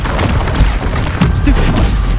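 Depulso, a force-push spell from the game Hogwarts Legacy, lets out a loud, short, booming blast in the middle of continuous combat noise.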